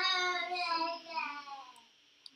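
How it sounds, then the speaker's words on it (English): A baby cries in one drawn-out wailing call that fades away, fairly clear though somewhat distant, followed by a faint click. "Sorry if you can hear a baby in the background."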